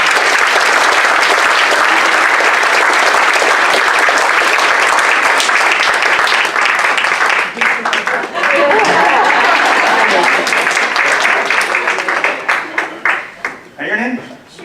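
Audience at a comedy or magic show breaks into loud, sustained applause, the clapping thinning out toward the end as a voice starts talking over it.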